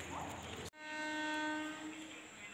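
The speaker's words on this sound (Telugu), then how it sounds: "మాటల్లోనే ట్రైన్ కూడా వచ్చేసింది." A train pulls into a rural station in Andhra Pradesh, a loud sustained horn blast rising over a steady rolling rumble close by after a brief roar of approach noise.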